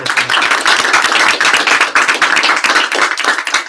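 An audience at a training session claps loudly, a dense burst of many hands striking at once that holds strong before tapering off at the end.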